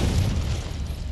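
Confringo spell blast from the Hogwarts Legacy video game, a deep rumbling explosion with heavy low-end boom that sustains loudly through the short moment without fading.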